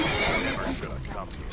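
A horse whinnies in Skyrim, a loud drawn-out neigh that fades over about a second, close by and mixed with other game sound.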